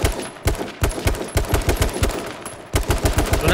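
Rapid automatic gunfire from a competitive team shooter scrim, bursts of loud close shots in quick succession with short pauses between volleys, no talking.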